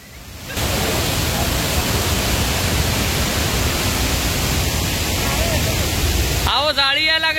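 Thoseghar Waterfall at Chalkewadi roars as a dense, steady rush of falling water, loud and close, swelling in after a brief quieter start, with a voice breaking in near the end.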